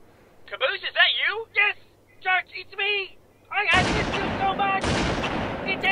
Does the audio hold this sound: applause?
no